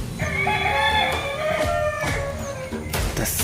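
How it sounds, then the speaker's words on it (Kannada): A rooster crows once, long and close, with a rising then falling call that lasts about three seconds against faint background noise, with no talking. "ಕೋಳಿ"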